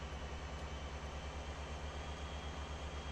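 The 330 vehicle's engine in the driving game Motor Town: Behind the Wheel holds a steady, low idling drone with a throbbing pulse, continuous and close, with no voices.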